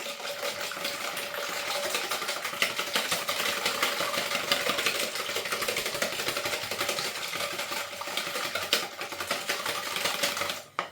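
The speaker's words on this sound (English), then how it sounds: "now we're going to whisk this" Yorkshire pudding batter is whisked briskly in a bowl, a fast continuous rattling whir that stays loud and close for about ten seconds without talk.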